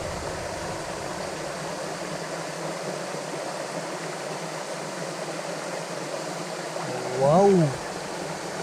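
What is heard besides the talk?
water gushing and bubbling up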